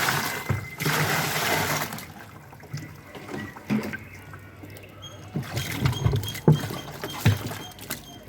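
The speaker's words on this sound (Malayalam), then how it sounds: "വെള്ളം ഒഴിക്കട്ടെ." Water poured into a washing machine during cleaning at home splashes and gushes for about two seconds, then gives way to quieter drips, sloshing and small knocks that pick up again toward the end.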